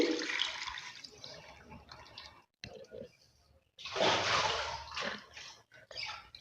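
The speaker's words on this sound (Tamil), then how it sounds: "நான் இன்னும் கொஞ்சோண்டு தண்ணி ஊற்றி" Water is poured and splashes over prawns in a container for washing, in two main bursts with a short quiet gap between, close and fairly steady.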